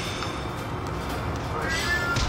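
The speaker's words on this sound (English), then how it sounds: "There goes my mom's cat." A house cat meows once late on, a short, moderately clear cry over a steady background hum.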